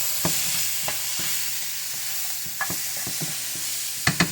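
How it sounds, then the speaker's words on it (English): Vegetables and garlic sizzle in olive oil for a pot roast, a steady frying hiss broken by scattered taps and scrapes of a utensil stirring the pan, with a few sharper clacks near the end. "So as these vegetables cook down a little bit, add a little bit of garlic."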